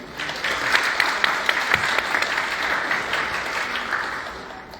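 An audience at a Korean inbound medical-wellness tourism seminar applauding to welcome a speaker, a continuous, even wash of clapping from many hands lasting several seconds.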